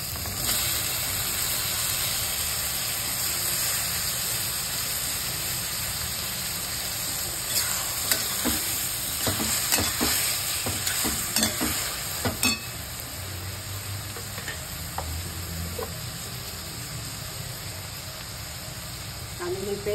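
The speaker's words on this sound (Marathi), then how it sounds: "आता टोमॅटो पण टाकते मी." Tomatoes frying in a pan for Marathi-style pav bhaji give a steady close sizzle, with a cluster of sharp clinks and scrapes from stirring in the middle. No one speaks.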